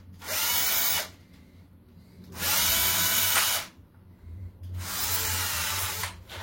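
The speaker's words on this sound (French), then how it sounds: "je viens de casser un forêt dans du bois" Power drill boring holes in wood in a workshop: three loud, sustained bursts of high whining drilling separated by short pauses, with a low hum underneath; the bit snapping is not distinctly audible.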